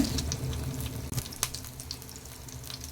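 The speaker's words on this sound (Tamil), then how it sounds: "எண்ணெய் லைட்டாக சூடானதுமே கொஞ்சமாக கருவேப்பிலை போட்டுக்கலாங்க" Curry leaves drop into lightly heated oil in a pan and crackle with a close, bright sizzle and scattered sharp pops over a steady hiss.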